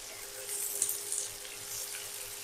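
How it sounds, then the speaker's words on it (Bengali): Onions frying in a pan for a coriander chilli chicken dish give off a quiet, steady sizzle with a few soft crackles, heard close up in a home kitchen. "এবার পেঁয়াজগুলো দিয়ে দাও"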